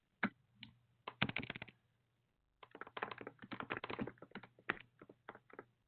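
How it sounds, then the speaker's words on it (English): Rapid clatter of keys on a keyboard, typed in quick bursts separated by a short pause, close and fairly quiet. "I hear some typing."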